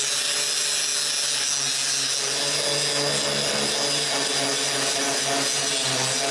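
A power tool grinding metal off a part outdoors for a criss-cross workbench, a continuous loud abrasive whine and rasp that holds steady throughout, no talking.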